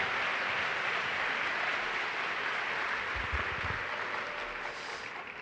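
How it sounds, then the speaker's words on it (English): At an Erasmus+ gathering in Seville, an audience applauds to welcome speaker Alfonso Gentil, producing a steady wash of dense clapping that fades slightly toward the end. "Please, huge round of applause to welcome Alfonso to your own city."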